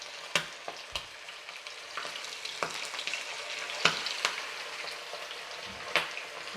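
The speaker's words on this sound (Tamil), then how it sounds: "இப்போ நான் வந்து மேரினேட் பண்ணி வச்சுருக்க சிக்கன் பீசஸை வந்து ஃப்ரை பண்ணி எடுக்க போகிறேன்" Marinated chicken pieces for pakoda fry in oil over a low flame, a soft, quiet sizzle dotted with sharp scattered pops and crackles.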